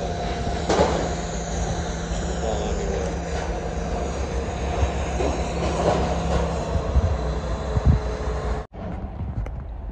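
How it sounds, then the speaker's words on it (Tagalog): A Hitachi excavator fitted with a steel cutter works close by, giving a loud, steady mechanical rumble and grinding with metallic squeals and clanks throughout, cutting out abruptly near the end. "Yan cutter na excavator."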